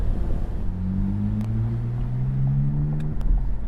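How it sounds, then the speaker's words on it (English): BMW Z4 with an M54 straight six and a straight exhaust, a close, loud droning engine note that climbs steadily in pitch as it pulls, then drops off abruptly. "Oh, the straight exhaust sounds so good too."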